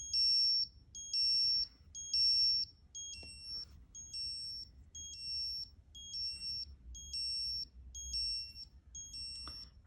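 A Seiko 6M23 chronograph watch alarm beeps in a steady repeating pattern of short, bright electronic chirp bursts, about nine groups, close and clear over a quiet room with no talking.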